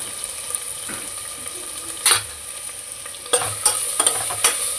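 Sliced onions for ghee rice fry over low flame in a pan, giving a steady sizzling hiss broken by several sharp clatters of stirring, with no talking.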